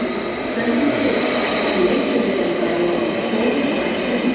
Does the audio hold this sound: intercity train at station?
yes